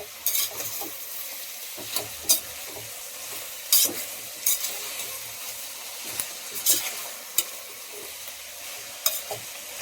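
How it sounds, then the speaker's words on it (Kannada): Onions and sprouted peas fry in a pan for drumstick pulao, a steady close sizzle broken by repeated sharp clicks and scrapes of a spoon stirring against the metal pan. "ಈರುಳ್ಳಿ ಎಲ್ಲ ಚೆನ್ನಾಗಿ ಫ್ರೈ ಆಗಿದೆ."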